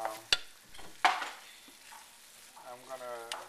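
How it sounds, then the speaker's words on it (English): Parmesan is stirred into risotto in a pan with a few sharp knocks of the utensil against the pan, soft scraping and low sizzling in between, all close and without speech. "I'm gonna mix it together with the rice"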